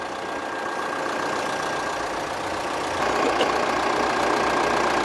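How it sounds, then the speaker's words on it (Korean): A Hyundai All New Mighty 3.5-ton wing-body truck's diesel engine idles in a steady, even rumble with a slight knock, close up and alone, growing a little louder partway through. "전반적으로 차량은 엔진 소리나 이런 것들 뭐 굉장히 좋고요"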